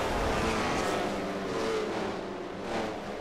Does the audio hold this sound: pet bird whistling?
no